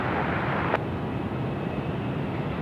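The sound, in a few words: BAe 146 aircraft landing at Sydney Airport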